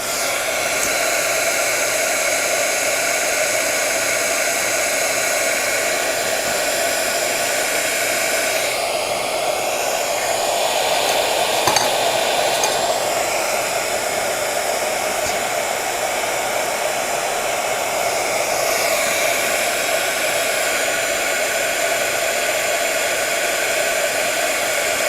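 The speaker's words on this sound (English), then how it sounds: "I'm going to give it another hit with the heat gun just to get it all melted on" Heat gun blowing hot air to melt a ThermaClear heat-shrink collar, a continuous loud hiss of airflow running steadily for the whole stretch with slight shifts in tone as the nozzle moves.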